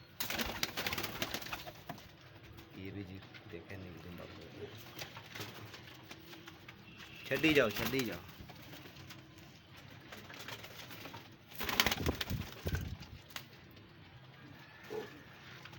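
Pigeons coo softly in the background at a bird market, with a couple of louder flurries of wingbeats or scuffling, while someone talks over them.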